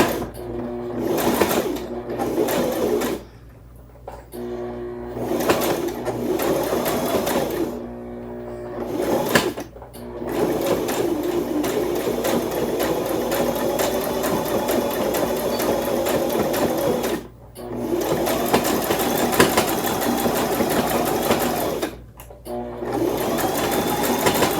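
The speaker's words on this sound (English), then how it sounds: "And continue sewing. There are 2 sides of your rope together." A sewing machine stitches two sides of rope together for a rope basket, running in long steady whirring bursts with several short pauses between runs.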